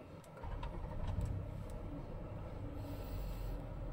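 A 2009 Toyota Alphard's 3.5 litre V6 starts up, its quiet, smooth engine hum rising after a brief crank and settling into a soft, steady idle with no voices.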